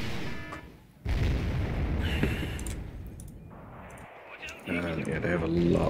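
Gunfire and explosions from the real-time strategy game Wargame: Red Dragon, in a battle where a South Korean pocket at Busan is under invasion. Dense, loud booms and bursts roll almost continuously, with sharp blasts standing out.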